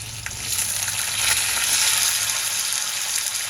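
Onion with chili and garlic frying in hot oil in a pan for a radish bhaji, a steady, close hiss of sizzling that holds throughout with no talking.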